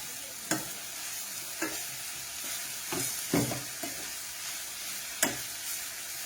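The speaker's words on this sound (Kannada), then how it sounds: "ಚೆನ್ನಾಗಿ ತೊಳೆದು ಕಟ್ ಮಾಡಿರುವಂತಹ ಈ ಪಾಲಕ್ ಸೊಪ್ಪನ್ನ ಇವಾಗ ಇದಕ್ಕೆ ಹಾಕೊಳ್ತಾ ಇದ್ದೀನಿ" Chopped spinach and tomato sizzle softly in a pan while being stirred for paneer avalakki, with scattered sharp clicks and scrapes of the spoon against the pan over a steady low frying hiss.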